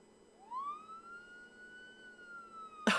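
A video game police siren wails up and holds a long steady tone with harmonics over a low background hum, ending in a sudden loud burst of noise.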